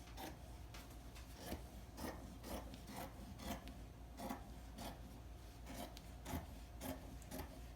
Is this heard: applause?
no